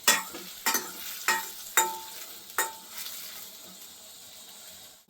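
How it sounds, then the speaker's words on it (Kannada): Asafoetida tempering sizzles in hot oil for rasam, with a soft frying hiss under a series of five sharp stirring clacks about every half second to second, then quieter sizzle alone, close and fairly faint, no voices. "ಹಿಂಗ್ ಒಗ್ಗರಣೆ ಮಾಡ್ತಾ ಇರೋದು ನಮ್ಮ ಸ್ಟೈಲ್."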